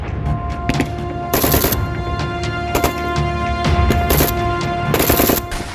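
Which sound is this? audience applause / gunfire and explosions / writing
gunfire and explosions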